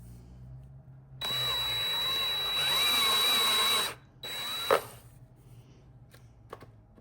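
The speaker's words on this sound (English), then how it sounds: "We're gonna go ahead and drill all these other ones out." A power drill whines steadily for about three seconds while boring a hole in a Kawasaki KFX 400 ATV, then gives a brief second burst. A clunk and light handling noises follow in a quiet workshop.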